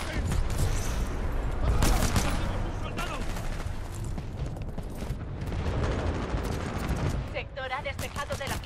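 Titanfall 2 multiplayer gunfire: rapid bursts of shots over a dense, chaotic battle din, with other mechanical noise. Someone talks throughout.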